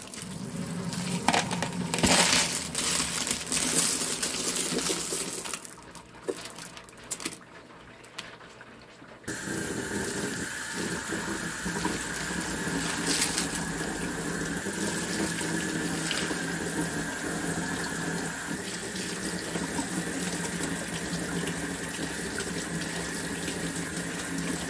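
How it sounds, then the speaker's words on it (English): Water runs from a sink tap into lot-o rock tumbler barrels, a steady splashing gush that shifts pitch as the barrels fill and changes after a brief pause midway, continuous and close. "now I'm gonna top up the barrels with water"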